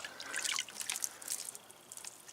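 Water splashes and trickles as cleaner is rinsed off a car headlight, irregular close dripping and spattering that comes in uneven bursts, with no voices.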